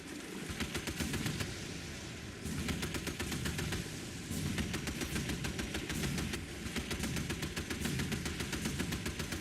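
A warship's naval gun firing in the Battlestations Midway video game: dense, rapid bursts of loud, continuous shots with two short breaks between volleys.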